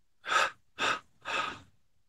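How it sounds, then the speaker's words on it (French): Three distinct, close breath exhalations during Kriya Yoga meditation, evenly spaced and separated by short pauses of silence. "On expire en 3 fois et on fait une pause avec la respiration."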